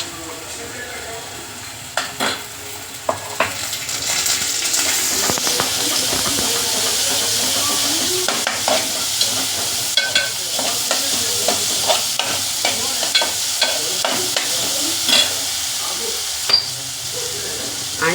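Spice masala is added to reddened onions and stirred with salt, giving a loud steady sizzle and hiss from the pan, punctuated by scattered spoon knocks and scrapes.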